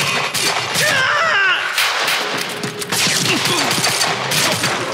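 Gunfire rattles through a firefight in the video game Quantum Break. Loud, dense volleys of shots and crashing impacts run for the full five seconds with no pause.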